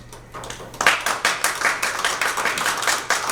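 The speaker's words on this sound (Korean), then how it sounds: "여러분의 힘찬 박수로 오늘 발족 기자회견을 시작하도록 하겠습니다" Attendees at a Korean civic group's launch press conference break into applause; after a brief quiet start, a burst of brisk clapping from a modest crowd rises and continues steadily.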